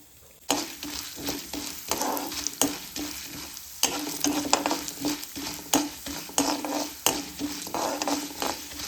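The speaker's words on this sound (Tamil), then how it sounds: "மிளகு, எல்லாம் போட்டுட்டு வதக்கிக்கிறேன்." Chana dal, urad dal and black pepper sautéing in hot oil in a pan, a bright steady sizzle broken by repeated scraping strokes of a stirring spoon against the metal, close and clear with no talking.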